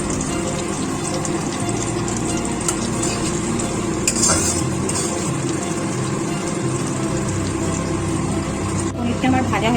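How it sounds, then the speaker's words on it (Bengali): Paneer frying in oil in a pan: a continuous sizzle with scraping and clinking from a utensil stirring, steady throughout with a few sharper knocks. "পনিরটা আমার ভাজা হয়ে গেছে।"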